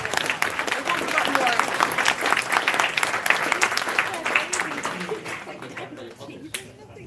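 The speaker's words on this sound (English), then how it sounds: "Big cheer for Martin." Convention audience at an anime convention closing ceremony applauding and cheering steadily for several seconds, a dense wash of clapping with scattered voices that tapers off near the end.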